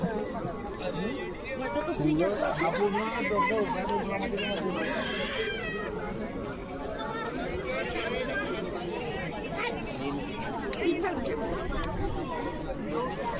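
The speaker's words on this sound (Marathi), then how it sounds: "गर्दी बघ ना." Crowd chatter at a busy gathering, a dense continuous babble of many voices near and far with footsteps and shuffling underneath, steady throughout.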